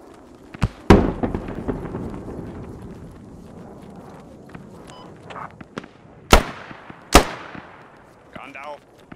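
Gunfire in the military shooter Squad, with sharp rifle cracks ringing out in scattered bursts, some close and loud, others further off, among clattering footsteps and movement noise.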